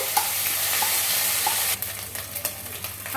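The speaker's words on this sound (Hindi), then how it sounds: "अब इसमें हम डालेंगे 1 चम्मच अदरक लहसुन का पेस्ट, 1 चम्मच हींग, अजवाइन, और इसको अच्छे से हम मिक्स कर लेंगे" Ginger-garlic paste, asafoetida and ajwain sizzle loudly in a hot pan for kadhi while being stirred. A bright frying hiss with soft scraping strokes eases slightly partway through.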